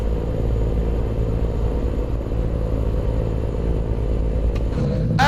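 A truck engine in American Truck Simulator rumbles steadily at a low idle-like drone, continuous and close, filling the scene alone, with a faint higher whine creeping in near the end.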